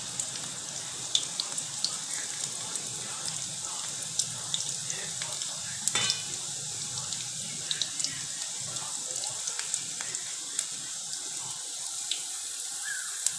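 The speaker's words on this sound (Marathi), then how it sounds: "चांगलं छानपैकी तडतडून देऊ आणि लसणाला गुलाबी कलर येऊ देऊ" Chopped garlic crackles and sizzles in hot oil, a steady hiss with scattered sharp pops throughout, close and moderately quiet, for a village-style fenugreek curry.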